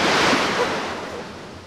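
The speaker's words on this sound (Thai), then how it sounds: "คลื่นแรงจริงๆด้วย" Strong sea waves give a loud, broad rushing wash that slowly fades over a couple of seconds, with no voices.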